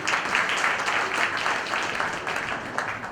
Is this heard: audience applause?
yes